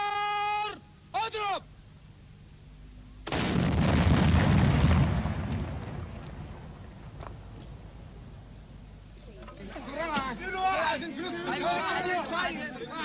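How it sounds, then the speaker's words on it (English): Cannons fire at sunset in Cairo to mark the end of the daily Ramadan fast: a loud, broad booming blast rolling out for a couple of seconds, followed by distant crowd noise and voices. "Minutes before sunset, the guns stand ready for firing to announce the end of the day's fasting."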